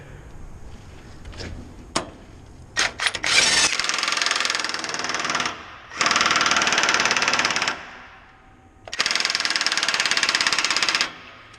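Impact wrench tightening a nut on a dyno, several loud rattling bursts close by, preceded by scattered clanks and knocks.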